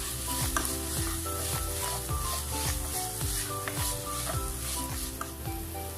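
Spices stirred and sautéing in a pan for vegetable spring roll filling: a constant close sizzle with repeated scrapes of a spoon against the pan and no talking.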